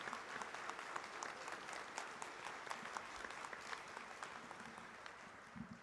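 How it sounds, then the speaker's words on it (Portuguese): A church congregation claps after the Gospel reading at Sunday Mass, a soft, somewhat distant wash of many hands that holds steady throughout, with a few sharper claps standing out. "E uma bonita salva de palmas à palavra de"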